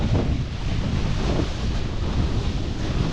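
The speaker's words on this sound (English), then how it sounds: "And this wind coming down from Southampton Water." Strong sea wind roars steadily across the microphone while windsurfing off Portsmouth near the Isle of Wight, a constant loud gusty rush mixed with water noise and no talking.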